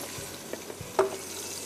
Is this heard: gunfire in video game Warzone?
no